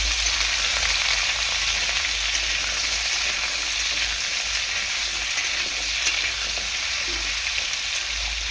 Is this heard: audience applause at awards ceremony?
no